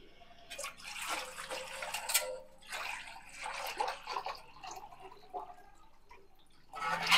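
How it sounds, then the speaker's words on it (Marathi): Water is poured into a cooking pot for sago and potato sandige, coming as several separate splashing pours of roughly a second or two each, broken by short quiet gaps. "अशा पद्धतीने आपण याच्यामध्ये 5 बुट्ट्या पाणी घालून घेऊयात."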